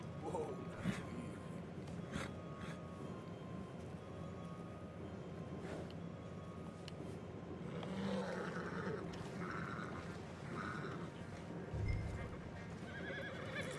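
Stallions in Red Dead Redemption 2 neigh and whinny amid clip-clopping hooves, with snorts over a low background rumble and some talk mixed in.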